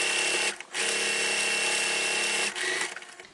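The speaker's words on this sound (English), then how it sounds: "I continued sewing my binding all the way around" A sewing machine stitches binding onto a quilted Lone Star tree skirt, a loud continuous motor whir that briefly stops and restarts, then winds down with a few ticking stitches at the end, close up.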